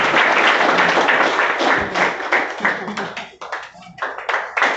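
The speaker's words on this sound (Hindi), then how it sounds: "बजाते रहिए तालियां" Students at a coaching class celebrating a NEET district topper clap for her, loud close hand claps that start as a thick continuous burst and then thin into more separate, uneven claps.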